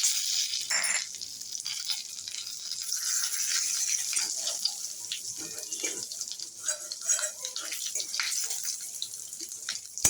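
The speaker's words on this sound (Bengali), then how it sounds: "এই তেলের মধ্যে আমি তেজপাতা, শুকনো লঙ্কা দুটো ছিঁড়ে আর 5 ফোড়ন দিয়ে দিলাম।" Bay leaf, torn dried red chillies and five-spice seeds hiss and crackle in hot oil, a close, continuous sizzle with scattered sharp spits and pops throughout.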